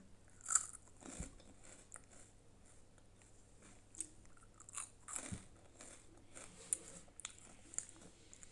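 Kurkure snacks are crunched and chewed close up in a series of crisp, irregular bites and crackles over a quiet background hum, with no talking.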